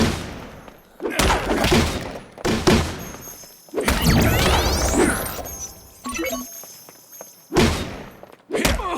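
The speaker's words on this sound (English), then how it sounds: "got some guys shooting at us from the wall." Gunfire from enemies on the walls in the video game Disney Infinity 3.0, loud bursts of shots and heavy thuds in clusters amid busy game effects, with a voice talking over parts of it.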